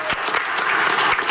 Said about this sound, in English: Everybody clap it up for Spadoni.